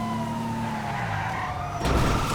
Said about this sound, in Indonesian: Aduh, ini dikejar polisi ya.